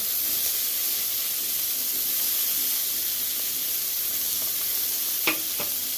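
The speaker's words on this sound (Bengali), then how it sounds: "আর পেঁয়াজ কুচিগুলো দিয়ে দিচ্ছি।" Chopped onions sizzling in hot oil left from frying fish, a broad steady hiss and crackle close by, with a brief clink of a utensil near the end and no talking.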